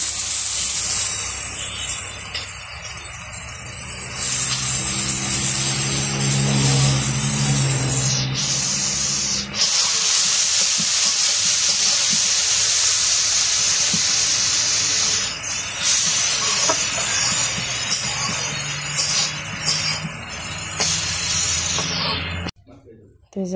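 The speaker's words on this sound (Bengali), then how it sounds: "এখন হইতেছে করলা ভাজি করবো। যে করলা গুলা দিতেছে সাথে আলু।" Bitter gourd and potatoes fry in a home village kitchen with a loud, continuous hiss and sizzle that shifts in intensity as the pan is stirred, ending in a brief quiet.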